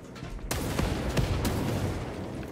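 Gunfire in the Warhammer 40,000 Space Marine 2 video game, a fairly quiet burst of several sharp shots over a dense rumbling battle din, no talking.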